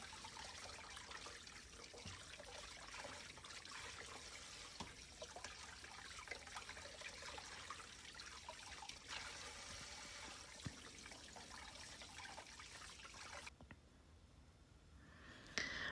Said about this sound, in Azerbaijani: Gördüyünüz kimi toyuğu doğradım və bunları təmiz-təmiz yuyuram.